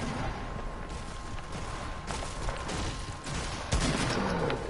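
Gunfire in a battle royale shooter game, heard as a fairly quiet, continuous wash of distant shots and crackling bursts, with a sharper, closer crack near the end.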